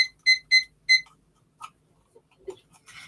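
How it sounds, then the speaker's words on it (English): Three sharp electronic beeps from a six-minute timer being set, evenly spaced in a quick burst, followed by a few soft faint clicks and taps nearby. "I'm going to set the 6 minute timer."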